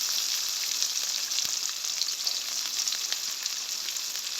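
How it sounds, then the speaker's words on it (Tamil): Onions and green chillies frying in hot oil for a Jaffna-style chicken curry, a steady close sizzle throughout with small crackles and pops, no talk. "அதை வந்து நல்லா எண்ணெயில் மிக்ஸ் பண்ணிவிட்டு கொஞ்சத்துக்கு வதங்க விடுவோம்"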